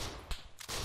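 Gunfire in the Arma 3 video game, two sharp bursts of shots less than a second apart, crisp and fairly close with no talk.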